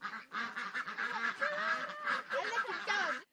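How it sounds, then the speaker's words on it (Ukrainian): Ducks on a farm quack and honk in a noisy, overlapping flock, close and steady throughout with brief rising calls standing out. "Погодувавши кролів, Олексій з меншими братами вирушає до качок."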